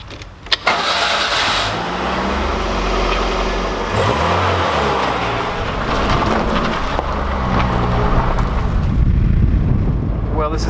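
A 1985 Pontiac Fiero 2M4 engine cranks and catches, then settles into a loud, rough idle with rising revs, close by, while a person speaks over it.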